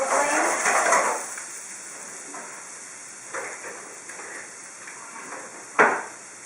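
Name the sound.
onions sauteing in a pan over medium-low flame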